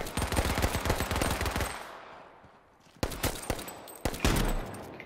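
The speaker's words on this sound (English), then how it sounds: "Oh fuck, that's a shotgun." Rapid gunfire, including shotgun blasts, in the video game H1Z1 during a lake fight: a dense loud volley, a short lull, then several sharp separate booms close by.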